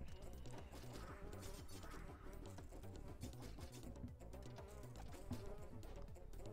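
A steady, low drone of bees buzzing in the video game Reaper: Tale of a Pale Swordsman runs throughout, quiet and continuous, with faint clicking and game sound effects mixed in.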